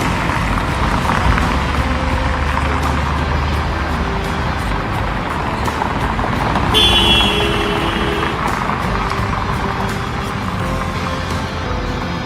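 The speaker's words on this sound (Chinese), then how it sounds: "车流。" Street traffic rolls past the square in front of the Potala Palace in Lhasa, a steady close roar of engines and tyres with passing vehicles and a brief high whine midway.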